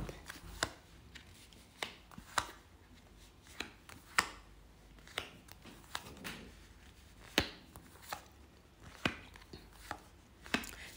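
Tarot cards being shuffled by hand, a run of sharp, dry slaps and riffles at an uneven pace, close and fairly quiet, with no talking.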